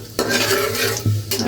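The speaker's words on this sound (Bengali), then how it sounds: "গোটা মশলা দিয়ে একটু ভাজা ভাজা করে নেব" Whole spices frying in hot oil left from browning onions, stirred with a utensil scraping the pan in a few distinct strokes over a steady sizzle, with no talking.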